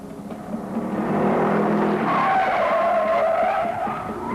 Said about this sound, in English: we took it through the reverse spin.